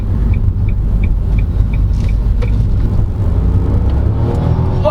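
A 2023 Nissan Kicks VL e-Power crossover accelerating in normal mode to overtake on the road, giving a steady loud cabin rumble of engine and road noise. The engine note rises gradually toward the end.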